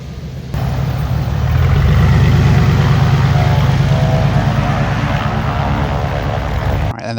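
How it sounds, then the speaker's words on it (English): A small propeller mail plane arriving at Beaver Island in Michigan gives a loud, steady engine drone close by that swells early and holds for several seconds before cutting off sharply at the end. "the plane's just arrived again to take me back across to mainland Michigan"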